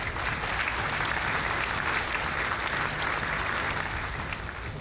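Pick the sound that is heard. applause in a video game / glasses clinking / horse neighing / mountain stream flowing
applause in a video game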